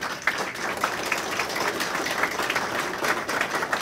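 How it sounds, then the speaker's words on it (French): An audience applauding a minister at an official ceremony, with dense, steady clapping at moderate loudness throughout the short stretch. "À l'assistant, je demande d'applaudir,"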